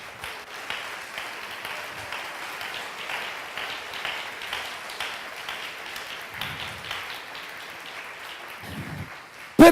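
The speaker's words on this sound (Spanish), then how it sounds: "Dele fuerte ese aplauso a Dios." A church congregation applauds during a sermon, a steady, moderately loud wash of clapping that runs unbroken for about ten seconds, with a few low thumps near the end.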